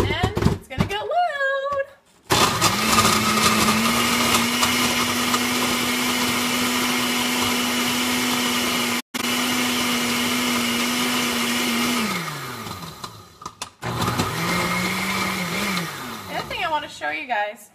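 An Oster blender runs loud and steady with a sustained motor whine for about ten seconds, briefly cuts out and restarts, then winds down. Short bursts of handling noise come before and after.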